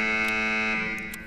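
A harsh, steady electronic alarm buzz in the video game Escape From Tarkov sounds continuously and loud, fading slightly toward the end, with a few brief clicks over it.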